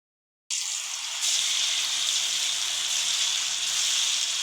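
Green-coloured chicken 65 pieces frying in hot oil, a steady bright sizzle that starts abruptly and holds loud and even throughout, with no voices.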